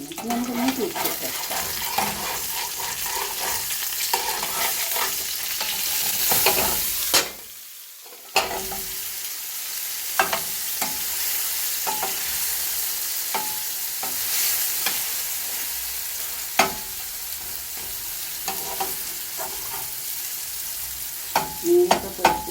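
Pomfret (avoli) fish sizzles steadily as it fries in a pan, with a busy crackling hiss and occasional sharp clinks. There is one short near-silent pause partway through before the frying resumes.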